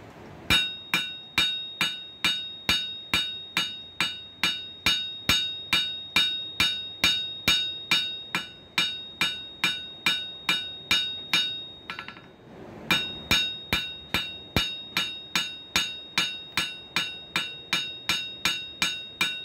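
A hammer strikes high carbon steel nails flat, pounding in a steady, evenly spaced series of sharp metallic blows with one brief pause partway through, loud and close.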